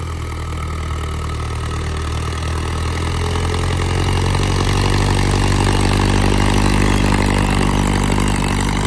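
Steady diesel rumble of a John Deere 5210 or Mahindra 555DI tractor running near 2000 RPM while pulling a harrow, loud and continuous with the pitch rising slightly as the engine works harder.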